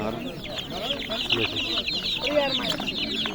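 Young chickens peep and cluck together in a lively chorus at an outdoor bazaar, close and continuous, with market voices talking underneath.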